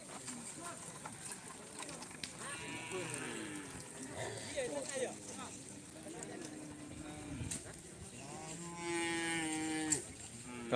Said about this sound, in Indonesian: Ini guys. Ini sapinya.